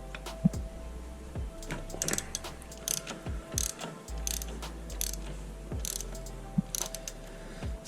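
A ratchet wrench loosens 17 mm bolts on an Indian Springfield Dark Horse motorcycle, giving quick bursts of clicking pawl strokes, close and fairly quiet, separated by brief pauses.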